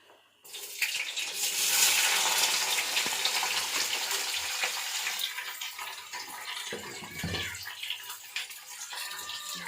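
Tap water runs steadily into a sink as vegetables are washed in a home kitchen, a loud continuous gush with splashing changes near the end and no talk.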